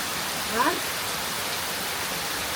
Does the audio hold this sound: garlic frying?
no